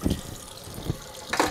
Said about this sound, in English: we can rinse it out really good anyhow